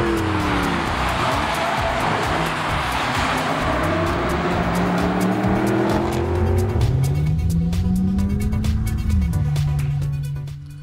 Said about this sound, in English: Now there you start to pick up a lot of that CLA45 engine note. It's a 4-cylinder Brap.